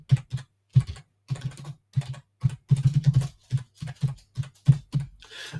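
Rapid keystrokes on a computer keyboard in short clattering bursts with brief pauses, close and clear, with no voice over them.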